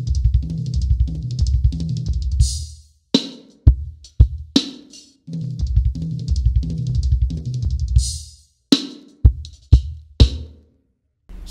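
Drum kit fill repeated four times, with extra notes added on the last pass before the crash; busy tom and snare patterns with sharp cymbal hits and short gaps between phrases, close and alone.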